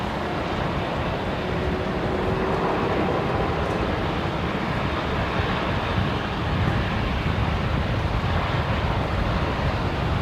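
Steady broadband roar of a Qantas airliner landing on runway 19 left at Brisbane Airport, a continuous loud rumble with wind buffeting the microphone throughout, no voices.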